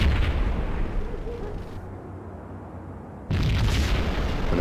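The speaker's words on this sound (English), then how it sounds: "Another bomb exploded inside the closest slum building." A bomb bursts inside a slum building in the Max Payne video game, a loud deep boom and rumble that fades into a muffled lull before a second heavy blast surges back in.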